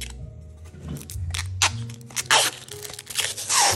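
Protective plastic film being peeled off a clear bathroom shelf, heard as a string of close crinkling, crackling rips that grow louder in bursts toward the end.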